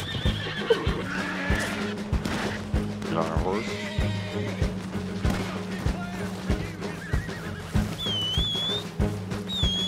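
A horse in the video game Red Dead Online neighs and whinnies, with clip-clop hoofbeats and steady game ambience underneath, plus some brief high bird-like calls toward the end.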